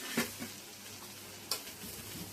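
Onions and tomatoes fry in oil in a pan for an egg gravy, a soft steady sizzle with a few light scraping stirs and taps of a utensil, quiet and close.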